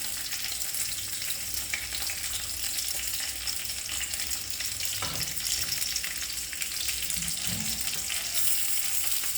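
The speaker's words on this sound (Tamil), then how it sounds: "நல்லா பச்சை போக வதக்கணும்." Spices, pepper, green chilli, curry leaves and ginger sautéing in a pan for coconut-milk biryani, a steady close sizzle with a few soft stirring scrapes, no voices.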